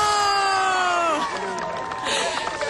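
Crowd at a football game cheers and shouts as a player attempts a kick, a loud burst of voices and whoops that swells and then dips with a groan, with speech mixed in.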